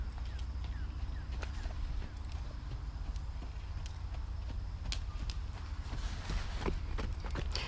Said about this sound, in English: let's see if we can get him a little bit bigger of a trot